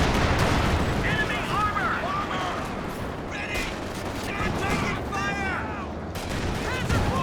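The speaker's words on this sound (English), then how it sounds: "A 4th howitzer for Outlaw Star." Howitzer artillery fire booms amid dense, continuous gunfire and explosions during a Company of Heroes 2 two-versus-two battle, while a commentator talks over the din.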